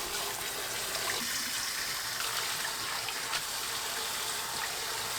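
Fresh mugwort being rinsed in water makes a continuous splashing and trickling, fairly close and steady throughout with no talking.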